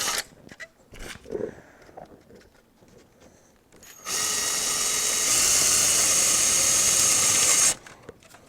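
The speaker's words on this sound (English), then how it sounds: "I just used my drill bit to kind of get it centered a little bit better" A power drill with a drill bit works a fender mount hole on a Giant Contend AR bike fitted with Honjo fenders. Soft handling clicks come first, then a loud, sustained whine for about four seconds that stops abruptly.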